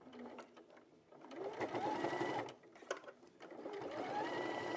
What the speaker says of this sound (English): when you're stitching around, do you like take off the free arm or anything like that, Sarah, on your sewing machine, or no?